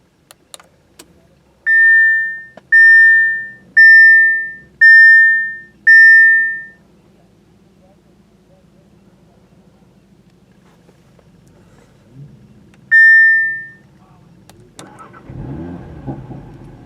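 A 2018 Audi TT RS Coupe started from its steering-wheel-mounted ignition: five evenly spaced warning chimes, a pause, one more chime, then the engine catches and settles into a low idle rumble at the end.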